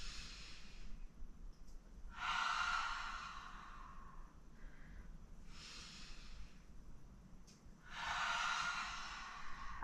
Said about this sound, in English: Let's take our exhales out the mouth.